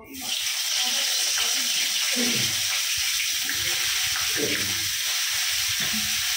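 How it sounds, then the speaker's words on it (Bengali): Cauliflower and potato pieces fry in hot oil for a fish curry, a steady hissing sizzle with watery spitting that runs through the whole clip after a quick start. "তো চলো সবার প্রথমে ফুলকপি আর আলুটা ভেজে নিই"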